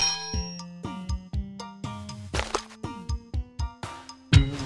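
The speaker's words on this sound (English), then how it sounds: "Let's ring the bell 8 times." Bell struck repeatedly in a Sesame Street Wii video game, a series of bright clanging dings with ringing overtones at an irregular steady pace, with a few short game-character voice exclamations among the strikes.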